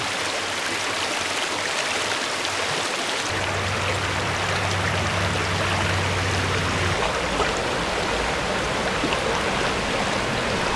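River water flows in a steady, full rush of broadband hiss and gurgle that continues unbroken, with a faint low hum partway through.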